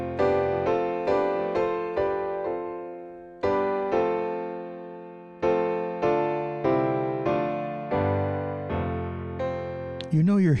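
A Lydian-mode chord progression is played on a keyboard as a series of sustained chords at an even pace, each one decaying before the next, ending with a brief sliding sound.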